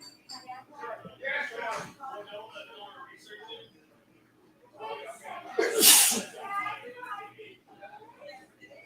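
A single sharp sneeze bursts out midway, loud and close, surrounded by casual conversation and a bit of laughter.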